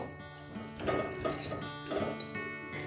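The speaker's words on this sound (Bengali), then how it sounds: "প্রথমে আমি ম্যারিনেট করা পনিরটা কড়াইয়ে ঢেলে দেব।" Marinated paneer poured into a metal wok (kadai), with repeated clinks and scraping metallic knocks at close range, no talk.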